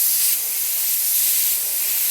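A Neo-Iwata BCN airbrush gives a steady, airy spray hiss, close and continuous throughout, with no voices.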